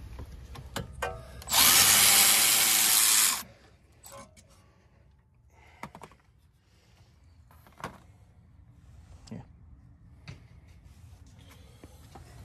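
Power tool spinning out a 13mm brake caliper bolt on the rear brakes of a Lincoln MKX / Ford Edge, one loud two-second whir, then quiet clinks and handling of parts.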